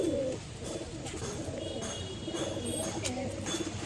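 A female pigeon coos in a loft, soft low burbling calls repeating over a few seconds against a steady murmur of other birds.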